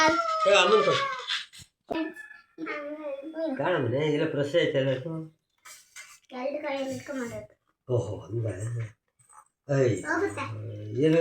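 A dog howls and whimpers in a series of drawn-out, wavering cries separated by short pauses, close and fairly loud.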